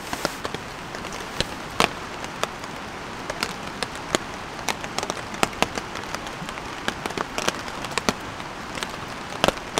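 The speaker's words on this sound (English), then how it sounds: "It started raining again," Steady rain falls on a campsite on a cold night, a dense even hiss broken by frequent sharp drips and taps on nearby surfaces, continuous and fairly loud throughout.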